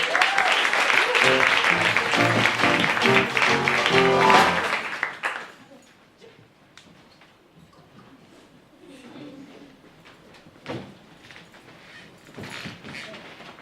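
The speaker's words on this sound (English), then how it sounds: "Yes, a warm round of applause for Mr." An audience gives a warm round of applause for the performer Mr. Dick Cricket. Loud, dense clapping over music for about five seconds, then it drops off sharply, leaving quiet scattered noises and faint voices.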